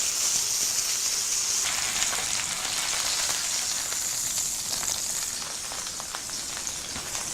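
A rib-eye steak sizzles loudly in a pan, a bright dense hiss with crackling spatter like rain on a surface, steady and close before easing slightly toward the end, with no voices.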